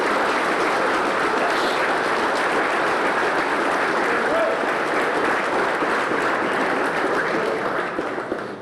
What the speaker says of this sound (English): Let's give a round of applause for Ethan.